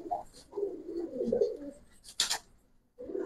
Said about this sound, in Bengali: আমার বড় ভাইয়ের কবুতর, আমাদের এই এলাকার কবুতর